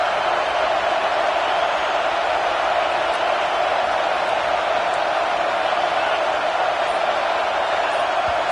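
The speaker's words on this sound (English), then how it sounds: "this crowd coming to life here, trying to help the defense get a stop with the offense pinned back" A football stadium crowd roars steadily and loudly throughout, a broad, continuous wash of cheering noise rising to urge on the defense as the offense is pinned back near its own goal line.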